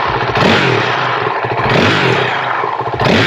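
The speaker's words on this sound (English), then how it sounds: "let's get the before sound of what the stock exhaust system sounds like on this" Honda CRF450RL dirt bike on its stock exhaust, engine revved up close in three rising blips with a raspy, blatting roar falling back between pulls, no voices.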